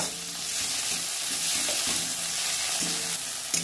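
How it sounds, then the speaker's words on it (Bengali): Tomatoes sizzle steadily in a hot pan while being stirred around, a continuous crackling hiss with occasional scraping. "এর ভিতর দিয়ে দেবো টমেটোগুলো একটু ভেজে নেব"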